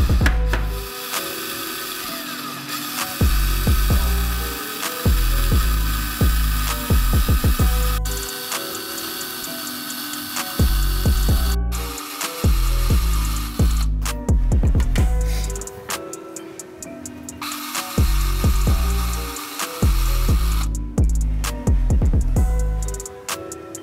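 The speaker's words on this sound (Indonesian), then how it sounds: "Sekarang, ambil drill dan drillkan pada ukuran lubang tersebut." A power drill bores holes into a board, loud close bursts of whining motor that start and stop repeatedly in a rhythmic series of drilling passes with short pauses between.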